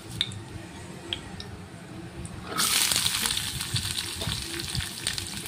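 Chopped onion dropped into a hot pan with urad dal and mustard seeds bursts into a loud, steady sizzle partway through, following a quieter stretch of faint crackling and small pops.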